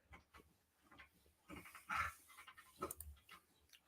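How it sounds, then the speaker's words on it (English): A bulldog snorting and panting close by, with rapid wet breaths and snuffly bursts that are faint and irregular, rising into louder snorts in the middle. "there's a bulldog behind me snorting all over the place"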